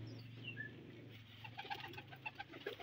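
Pigeons on a rooftop give faint, soft coos and a few short calls, quiet and close together over a low background hum.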